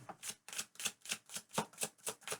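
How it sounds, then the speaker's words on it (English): Tarot cards are shuffled close by in quick, regular riffles, about ten crisp bursts in a little over two seconds, quiet and with no talking. "I was just shuffling to the last second so that you're a witness."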